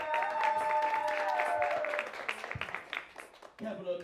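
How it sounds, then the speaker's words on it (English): Audience applauding and cheering as a performer comes to the stage at a live show, with a dense burst of clapping that thins out toward the end amid crowd noise. "Coming to the stage, put your hands together for my main man, Mr. Pull Up Bond"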